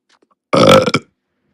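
A single loud, close burp after drinking soda, lasting about half a second in otherwise near silence.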